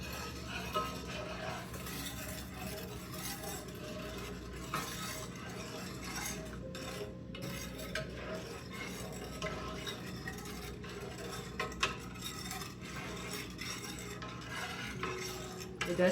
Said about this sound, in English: You're just stirring everything in, letting the sugar dissolve